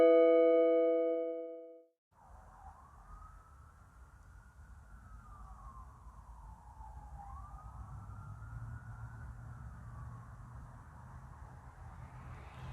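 A short tonal blare cuts off, then emergency sirens wail up and down at a distance over a low traffic rumble, steady and fairly faint.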